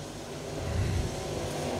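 A Sportsman Late Model race car engine roars steadily at Magnolia Speedway, a continuous loud drone that swells briefly as the car passes on the track.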